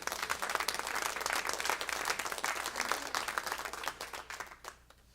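Congregation applause at a church sermon, dense sustained clapping that fills the hall and tapers off near the end.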